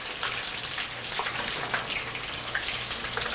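Shrimp and chunks of scallion deep-frying in oil, a steady dense sizzle and bubbling that stays loud and even throughout, close up with no talking.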